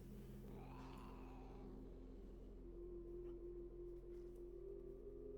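Cats in the video game S.T.A.L.K.E.R. Dead Air give a low, drawn-out yowl under a steady humming game ambience, with a brief rising cry near the start; faint and fairly distant.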